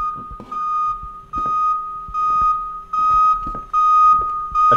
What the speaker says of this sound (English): No, it was a fire alarm.